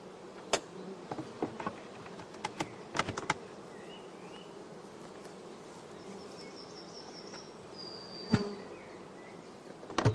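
Honeybees buzzing around a closed hive, a continuous low insect drone with scattered sharp clicks and ticks, fairly quiet and steady with no voices.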